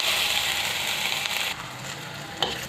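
Ginger garlic paste sizzles steadily in a hot pan, a dense close frying hiss that eases slightly partway through, with a brief scrape or stir near the end.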